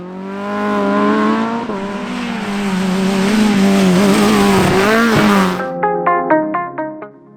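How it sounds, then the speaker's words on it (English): A Toyota Corolla sprint car races past at a sprint championship, its engine roaring and climbing in pitch while the rear tyres squeal, loud and close, then shifting into sharp rhythmic revving bursts at the end. "And Cookstown man Jason Stirrup has made the trip south once again to roast more rear tyres off the Corolla."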